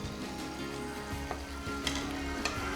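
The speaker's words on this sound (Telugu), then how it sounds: "5 మినిట్స్ సిమ్లోనే ఉడకనిద్దాం." Onion chutney for idli and dosa simmering in a pan, a steady close sizzle and bubbling with occasional faint stirring clicks, no voices.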